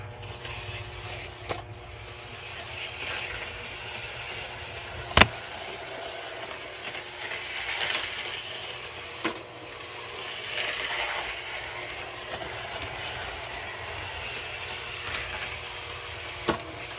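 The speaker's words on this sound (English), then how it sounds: "I even put blue tape on the trolley on the one end to show you that it does reverse and that it hits each bumper when it goes around" A model trolley runs along Menards track through Ross and Fastrack switches, giving a continuous mechanical whir and rattle with occasional sharp clicks as it passes over the joints, steady and fairly close throughout.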